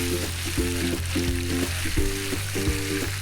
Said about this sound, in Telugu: చికెన్ మొత్తం వేసుకున్నాక చికెన్ని ఆయిల్లో బాగా కలుపుకుందాం